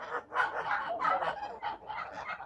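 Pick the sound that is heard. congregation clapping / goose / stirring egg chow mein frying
goose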